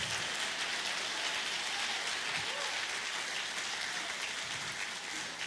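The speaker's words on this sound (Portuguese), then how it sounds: "Você pode dar uma salva de palmas e falar: obrigado, Deus." A church congregation gives a sustained round of applause during a Christmas service, a dense, even patter of many clapping hands that stays steady from start to finish.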